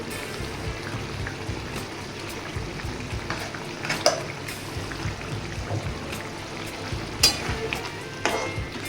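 Soybeans cook in a pan over a medium flame with a continuous soft sizzle and bubbling, broken by a few louder stirring clacks, close by and with no talking.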